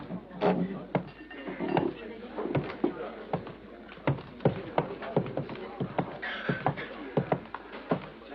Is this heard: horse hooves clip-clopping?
yes